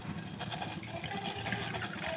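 Two cups of water are poured into a pot on a stove for boiling vermicelli, giving a short, steady splashing fill heard up close.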